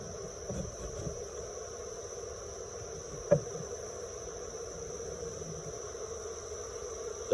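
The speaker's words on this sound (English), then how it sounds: "Here's the bees." A honeybee swarm settling into a Layens hive trap gives a steady, soft, close buzzing drone that runs the whole time, with a couple of faint knocks or handling noises and no speech.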